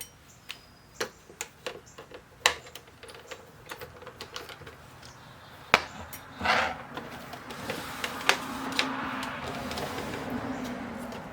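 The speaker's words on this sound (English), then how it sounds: "We got two more screws here we can take out." Screws being backed out and small metal parts handled while an RCA CD stereo is taken apart, heard as scattered sharp clicks and ticks with a brief scraping rustle in the middle, fairly close and quiet, with no speech.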